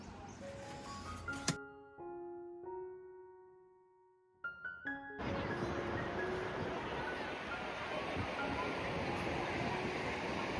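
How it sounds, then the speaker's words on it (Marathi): Surf at Harihareshwar beach on the Konkan coast rolls in as a steady, broad wash of breaking waves, following a brief burst of sustained tones and a quiet gap at the start. "हरिहरेश्वर समुद्र किनारी आलो होतो."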